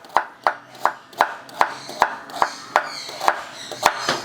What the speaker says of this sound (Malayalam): റെസ്റ്റോറൻറ്റൊക്കെ വെട്ടും പോലെ തന്നെ ഉള്ളിയൊക്കെ അരിയാൻ പറ്റുന്നുണ്ട്